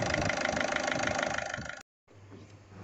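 A Ford TDCI diesel engine idles steadily and loud right after starting, a dense mechanical clatter that cuts out abruptly near the end before a quieter low hum returns.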